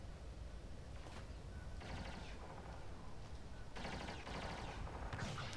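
Gunfire in a multiplayer video game match, Power Rangers versus Team Ventum, comes as rapid bursts of automatic shots and blaster fire, repeated volleys fairly faint in a busy game mix.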